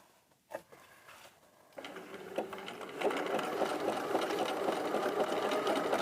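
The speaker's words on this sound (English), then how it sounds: "we're going to start sewing this onto our base fabric. Now just start on an angle. See how I've got it angled in? And we will start our zigzag off." A sewing machine zigzag-stitches a jelly roll fabric strip onto base fabric, starting after a few handling clicks and then running in a steady fast whirring chatter that grows louder and continues to the end.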